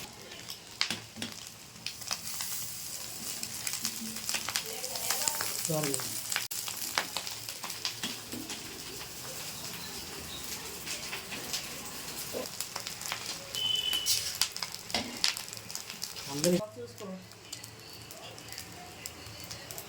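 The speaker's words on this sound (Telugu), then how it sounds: "ఇవైతే ఫ్రై అయిపోయి ఇప్పుడు ఇందులో రైస్ యాడ్ చేసుకున్నాం" Chicken fried rice sizzling in a pan just after the rice joins the spiced, fried chicken, a steady hiss broken by scraping stirs, with faint chirps in the background.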